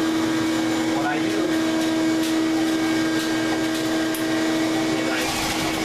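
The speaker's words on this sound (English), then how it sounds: "So now we got high power suction coming through this vent." High-power vacuum suction roaring steadily through a dryer vent during vent cleaning, a loud continuous whoosh with a tonal hum, running alone without pause.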